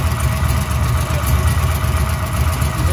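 A 1996 LT1 V8 fitted with Holley Terminator X runs on an engine test stand, idling with a steady, choppy lope; a loud, continuous low rumble throughout with no talking.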